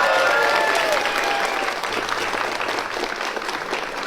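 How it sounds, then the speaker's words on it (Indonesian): A crowd at a school farewell event in Bogor breaks into loud, sustained applause, a dense wall of clapping with a few shouts. "Tepuk tangan dong."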